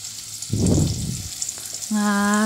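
Zucchini hits melted butter in a pan with a short, soft sizzle that swells and fades, followed by a steady clean tone over light background hiss.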